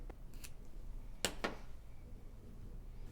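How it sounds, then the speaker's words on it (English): Scissors trim a strip of felt for a handmade fall pumpkin, giving two quick, quiet snips close by in a calm indoor setting, with no talking. "so I'm going to trim it"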